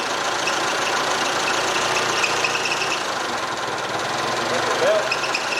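An old TCM forklift's small diesel engine idles steadily, held slightly above idle, with a constant low drone and faint knock throughout, a brief squeal near the end.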